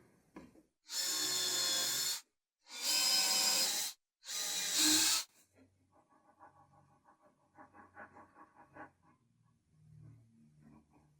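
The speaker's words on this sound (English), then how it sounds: "we're going to drill pilot holes just to make sure we don't crack it" Three short bursts of a high-pitched power drill drilling pilot holes in white oak, each about a second long, close up, followed by quieter clinks and handling noises.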